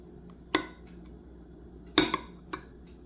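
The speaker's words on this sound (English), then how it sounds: "A couple of spoons of my yogurt in my bowl." Yogurt spooned into a bowl, a few distinct clinks and taps of a spoon against the bowl spaced across a quiet background, no talking.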